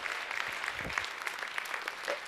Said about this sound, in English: Ladies and gentlemen, please give a warm round of applause for Smiley Face as she comes to the stage.